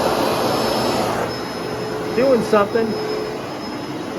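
Carpet steam cleaner with a spinning brush in a remodeled apartment, a loud steady motor whir at first that eases off while someone talks over it.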